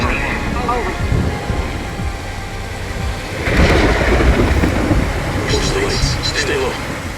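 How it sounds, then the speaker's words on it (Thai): Steady rain hisses and thunder rumbles in the shooter video game Arena Breakout, with someone talking over the storm. The rainfall stays constant while a louder rolling swell builds midway through. "ผมว่าผมชอบบรรยากาศที่มันมีฝนตกแบบนี้นะ"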